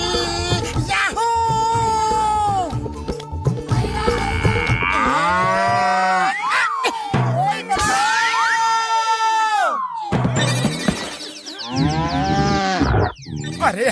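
Cattle or buffalo on a farm moo loudly and repeatedly in long drawn-out calls, close by, with children shouting and a crowd cheering in the background.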